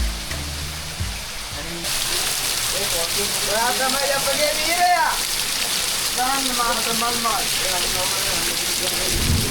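Heavy rain falls as a dense, steady hiss that starts abruptly after a couple of seconds and continues to the end, with people talking over it in the middle.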